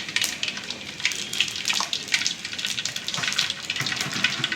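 Mustard and fennel seeds crackle and spit steadily in hot oil for beetroot masala, a dense bright sizzle with rapid popping throughout and no talk.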